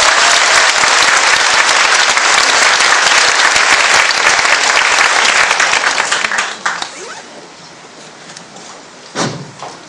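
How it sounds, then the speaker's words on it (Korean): Dense, loud applause from a seated audience welcoming a speaker to a presentation, steady full clapping for about six seconds, then thinning out and fading, ending with a single knock or thump. "박수로 환영해 주시기 바랍니다"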